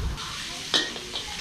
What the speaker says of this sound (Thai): ผักก็ลงเลยเราจะผัดให้มันสลบนะครับ